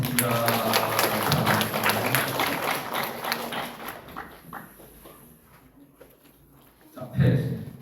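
A church congregation claps after a choir's hymn, a crisp patter of hands that gradually thins and fades over several seconds before a voice speaks at the end.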